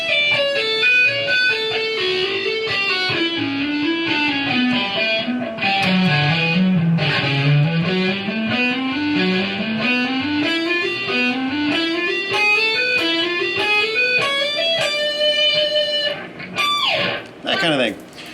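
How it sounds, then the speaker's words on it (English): An electric guitar plays a slow legato lick, in standard tuning, with smooth flowing notes sweeping down then back up, held sustain, and a bending flourish near the end. "let me play through that entire lick one time slowly so you can kind of get a feel for how this should sound"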